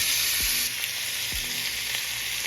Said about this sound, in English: this steak is in the cast iron skillet